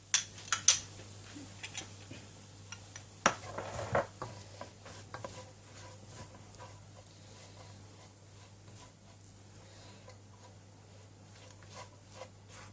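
A spoon scrapes and knocks against a pot while a thick boiled-potato mixture for tuna kebabs is stirred, with sharper clinks early on, then softer, steady stirring.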